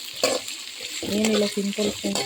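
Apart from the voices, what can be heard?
onions and green chilies frying in a pan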